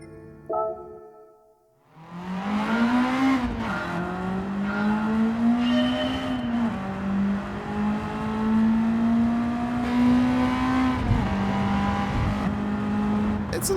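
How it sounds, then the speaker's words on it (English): A Honda race car in Gran Turismo 7 with a semi-racing exhaust idles with a deep, rough burble, rising and falling in loud throaty revs close by for several seconds. "Go with semi-racing one and see what that sounds like."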